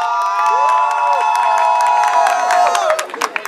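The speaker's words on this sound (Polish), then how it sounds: "Wielkie brawa!" A loud crowd of spectators at a longsword fencing championship cheers for a fencer, with sustained shouting, whoops and scattered clapping filling the space for several seconds before breaking into a few separate shouts.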